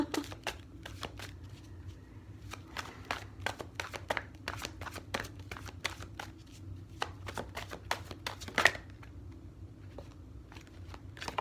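Tarot cards being shuffled by hand, a steady run of quick, crisp riffling snaps and slaps close by, with a brief louder flurry near the end and no talking.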